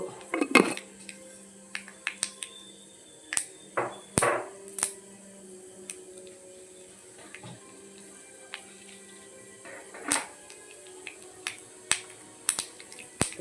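Mustard seeds popping in hot oil in a pan for a Kerala-style beetroot thoran, giving scattered sharp crackles and pops at irregular intervals, close by and moderately loud against a quiet background.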